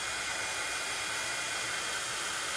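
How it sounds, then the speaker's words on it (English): A heat tool blows a steady, loud broadband hiss and whoosh while drying watercolor on card, continuous and close with no voices. "So I'm going to heat it again just to dry it a little bit."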